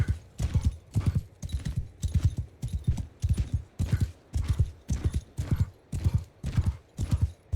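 Horses gallop in Mount & Blade 2: Bannerlord, a steady rapid clip-clop of hooves that pulses in even bursts, loud and close throughout, with no talk over it.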